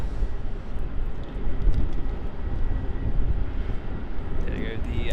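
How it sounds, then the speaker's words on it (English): An Airbus A350 taxiing at Melbourne Airport gives off a steady, low jet rumble at a distance, muffled by wind buffeting the microphone, with a faint higher whine appearing near the end. "the A350 is just taxiing back there towards Terminal 2"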